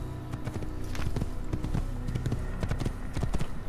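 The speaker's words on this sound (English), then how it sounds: "All I'm doing is riding my horse a tiny bit faster." Horse hooves clip-clop steadily while riding at a quickened pace in the Assassin's Creed video game, a rhythmic run of close, distinct hoofbeats over a constant background of ambient game noise.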